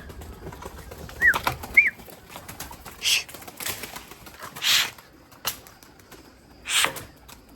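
Pigeons in a breeding loft give soft coos and several short bursts of wing flapping, spaced irregularly and heard fairly close over a quiet background.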